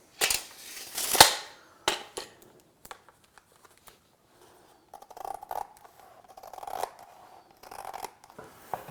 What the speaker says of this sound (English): The mat cuts really easily just with plain scissors.